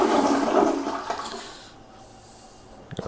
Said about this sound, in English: And the toilet is water, and it flushes.